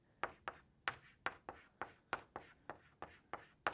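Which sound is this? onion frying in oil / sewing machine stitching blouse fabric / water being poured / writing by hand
writing by hand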